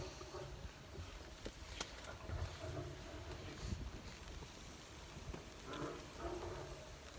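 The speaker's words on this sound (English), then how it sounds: "Wind's definitely starting to increase a bit now." Wind gusting beside the River Ouse, a steady broadband rush with buffeting against the microphone, continuous and fairly close, with no talk over it.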